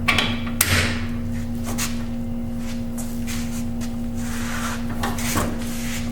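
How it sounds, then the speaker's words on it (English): A BrakeQuip double flaring tool has its turret set in place for a 3/8-inch 37-degree flare. A couple of sharp metallic clunks sound near the start and another comes later, all over a steady machine hum with no talk. "Putting that turret on."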